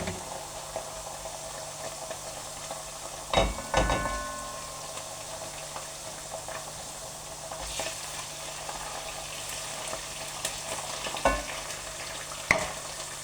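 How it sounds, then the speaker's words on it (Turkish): Potatoes and carrots sauté with pepper paste in a pan, giving a steady low sizzle with occasional sharper stirring scrapes and clatters, close by, with no talking. "ben patatesle havucu falan kavurdum salçasıyla birlikte"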